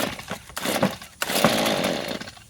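Vevor 58cc chainsaw engine idling and revving after a choke start, a steady close two-stroke drone with a sharp surge midway that holds loud and rough to the end.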